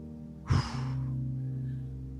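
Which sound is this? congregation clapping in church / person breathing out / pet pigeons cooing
person breathing out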